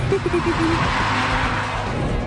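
A BMW 335i engine runs while the car is driven, a loud, steady drone under its cabin noise, with a brief higher tone near the start.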